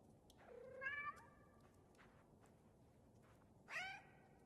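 A cat meows twice with rising, harmonic calls, one short and one a few seconds later, indoors against a quiet background with no talking.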